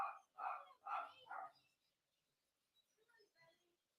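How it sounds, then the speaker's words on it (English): A dog barks four times in quick succession nearby, fairly faint, then a few softer scattered sounds follow in an otherwise quiet room. "my dog's going off"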